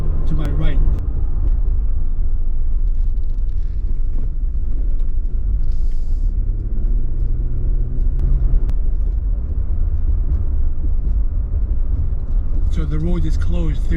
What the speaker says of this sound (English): driving across Roosevelt Bridge